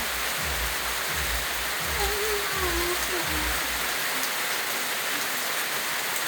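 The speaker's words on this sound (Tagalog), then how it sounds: "Ulan namin to." Steady rain hisses over everything in a constant wash of noise, with a few low thumps early on and no talking.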